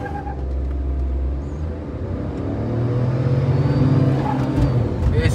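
Two 2023 and 2022 Tata Nexon SUVs with 118 bhp 1.2-litre engines accelerating hard in a drag race, a steady loud engine drone rising in pitch and intensity through quick gear changes, heard from inside the car.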